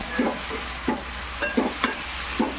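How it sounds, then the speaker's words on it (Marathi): Chopped onion softens in a pan for kantoli bhaji while a spoon stirs it: a steady low sizzle is broken by soft scraping knocks in an uneven rhythm, close by and without speech. "कांदा शिजून द्यायचा जरा"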